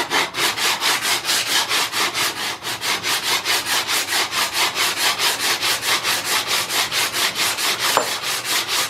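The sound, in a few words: sanding flat the sole of an Ohio Tool Co hand plane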